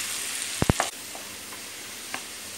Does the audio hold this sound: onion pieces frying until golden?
yes